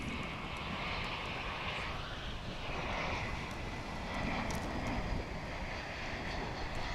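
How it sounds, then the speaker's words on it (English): An American Airlines Airbus A321 arriving from Seattle at DFW International Airport, a steady roar of jet engines heard from a distance, with no voices. "Here's an A321 coming in from Seattle on American Airlines."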